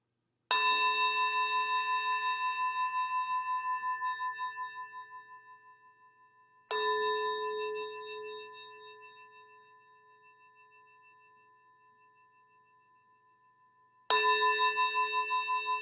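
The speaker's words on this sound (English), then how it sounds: "as we end this meditation, I'll ring the bell 3 times" A meditation bell is struck three times at the close of a children's meditation session, each clear ringing strike sustaining and slowly decaying before the next, heard alone in a quiet room.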